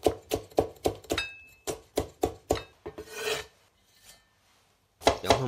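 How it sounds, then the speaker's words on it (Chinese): A kitchen knife chops green pepper into thin strips on a cutting board, making a quick, steady run of about a dozen crisp taps, then a short rasping scrape and a pause before the chopping starts again. "青椒同样切成丝"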